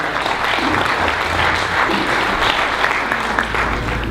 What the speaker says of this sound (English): can we give another round of applause to Mr. John Rubio for that very insightful presentation